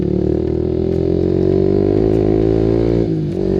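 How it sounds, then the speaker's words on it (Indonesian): A motorcycle running Shell Advance Ultra 10W-40 oil idles roughly and up close, a loud steady engine drone with slight unevenness and a brief dip near the end, with no voices. "Ketika stasioner dia tidak lagi benar-benar halus ya"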